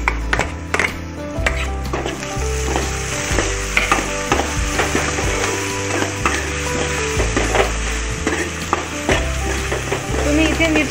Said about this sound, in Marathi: आपले कांदे चांगल्या प्रकारे लाल झालेले आहे आणि इथे मिरची लसूण पेस्ट टाकणार आहे।